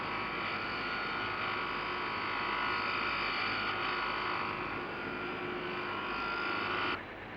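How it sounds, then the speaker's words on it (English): High-speed carborundum wheels grinding engine big end and main bearings to fine limits: a steady, loud whirring hum with a bright buzzing tone, continuous before dropping off abruptly near the end. "Both big end and main bearings are then ground to extremely fine limits using high-speed carborundum"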